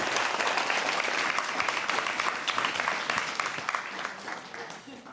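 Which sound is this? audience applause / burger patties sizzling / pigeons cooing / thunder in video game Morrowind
audience applause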